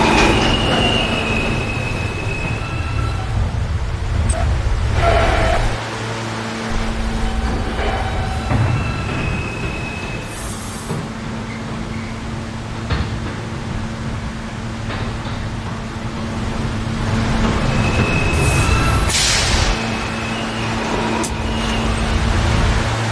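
A loud New York subway F train rumbles into Jay Street–MetroTech station, its wheels squealing and screeching on the rails as it slows, with a steady mechanical roar throughout.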